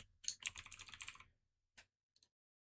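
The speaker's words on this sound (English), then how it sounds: "You could also press Ctrl P on your keyboard." Keys pressed on a computer keyboard, a quick run of close, crisp taps for about a second followed by a few isolated clicks, quiet and with no voice.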